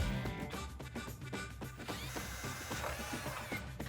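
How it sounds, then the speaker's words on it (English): An 11/32 drill bit boring a hole in metal for a self-tapping screw during an F150 suspension lift install, a steady power-drill whir with rhythmic pulsing grinding bursts, close and moderately quiet. "grab your 11/32 drill bit and drill the hole for our self-tapper"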